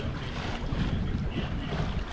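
A sailboat under wind-vane self-steering glides over a calm, mellow sea in light wind, giving a steady, close wash of water and breeze with soft rumbling wind noise throughout and no talking.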